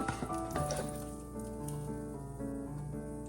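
Garlic sizzling in a hot pan: a steady, soft frying hiss runs throughout, while tonal music plays over it.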